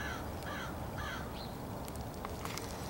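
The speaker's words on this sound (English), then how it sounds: "Crows have been chatting up a lot." A crow caws in the distance several times, a few hoarse calls spaced over a steady outdoor background hiss, faint and unaccompanied by speech.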